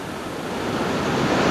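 Sea waves roll in at a river mouth at Port de Sagunt, where the floodwater has turned the water red. A steady, broad wash of surf swells and grows slightly louder, with no voices.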